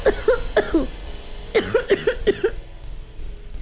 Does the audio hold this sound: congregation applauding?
no